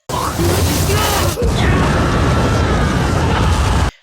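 Loud anime explosion effect, a sudden roaring blast that drops out and swells into a sustained dense rumble, loud and alone before cutting off abruptly.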